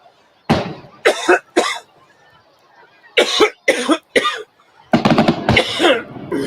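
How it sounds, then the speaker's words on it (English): Several harsh coughs come in bursts, a couple near the start, a cluster in the middle, then a longer fit, with quiet pauses between. "Still getting over this stupid cough."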